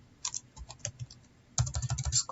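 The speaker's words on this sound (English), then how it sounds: "Then I'll type." Close, crisp keystrokes on a computer keyboard in bursts: a scattered run of taps, a short pause, then a quicker, louder flurry of typing, with no voices.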